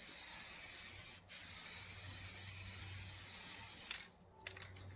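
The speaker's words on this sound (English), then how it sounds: "Hold the can about 8 to 12 inches from the surface area. And make your coat." Aerosol can of Plasti Dip spraying onto car wheel rims, a steady loud hiss with one brief break, then stopping near the end, leaving faint clicks and quiet.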